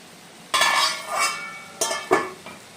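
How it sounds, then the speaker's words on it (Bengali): Pieces of pointed gourd and carrot tumble into a pan for Mymensingh-style labra, a clattering burst of sizzling contact followed by a few sharper clinks of a spoon against the metal. "এখন আমরা পটল আর গাজর দিয়ে নেব।"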